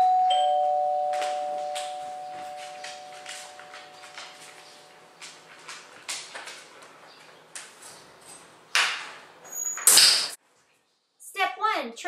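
A doorbell chime rings clearly at the start during dog training at home, followed by sparse clicks, rustles and brief bursts of noise.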